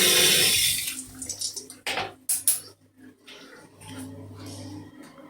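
Water runs from newly installed bathroom taps, a loud rushing stream at first that cuts off, followed by a few clanks and quieter trickling while a person talks.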